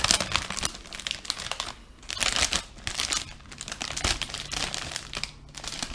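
Plastic packaging from a Perfect Grade Gundam Exia model kit crinkles and crackles close up in irregular bursts, with brief quieter gaps between handling.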